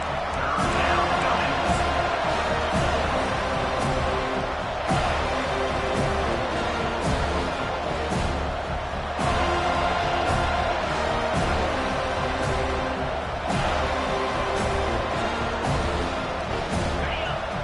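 A football stadium crowd roars in a steady, loud wash of cheering and noise that holds throughout, with occasional sharper bursts rising out of the din.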